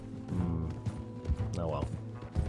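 Horse hooves clip-clopping in the video game Red Dead Redemption 2, a steady trotting rhythm over a bed of tonal game music, with faint voice-like sounds in the mix.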